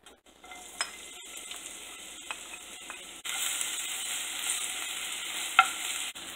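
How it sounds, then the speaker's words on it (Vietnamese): A tablespoon of oil with shredded ginger and leek sautéing in a pan: a quiet sizzle with a few stirring clinks that jumps to a louder, steady hiss midway, with no talking. "một muỗng canh baro mình để vô đây phi cho nó thơm"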